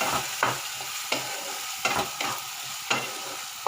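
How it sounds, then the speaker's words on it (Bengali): Spice paste and green peas for methi matar frying in a wok, a steady moderate sizzle interrupted by regular scraping stirs roughly every second, with no voices. "এই সময় আমি এই কড়াইশুঁটিগুলো এর মধ্যে দিয়ে দেবো আর ঢাকা দিয়ে সিমে আছে মশলাটা যতক্ষণ না তেল ছাড়ে ততক্ষণ ভাজবো"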